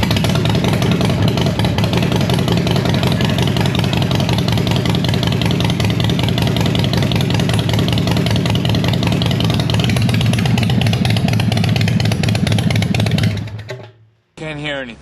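A motorcycle engine on a Blacktop Rider build fires up with loud pipes and runs at a rough, throbbing idle, loud and close for a long steady stretch before cutting out abruptly near the end, with voices over it.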